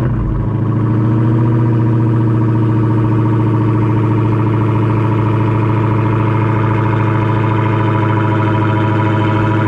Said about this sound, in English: Let's see if I can get y'all a cold start.